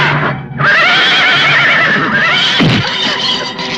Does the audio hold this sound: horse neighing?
yes